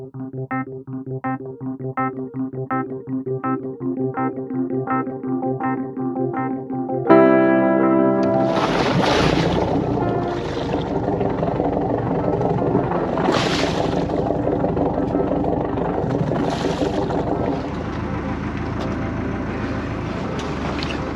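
A two-horsepower outboard boat motor on a dive trip, first putting along with a steady regular chug, then revving up into a louder, continuous drone with water rush, no talk.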